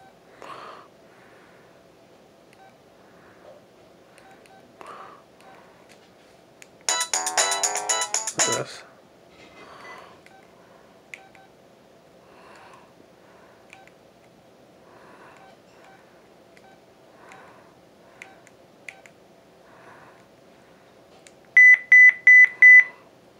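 Keypad and alert tones from an LG enV VX9900 cell phone: a dense burst of high electronic beeps, then a few quick pulsed tones near the end, with soft handling noise in between.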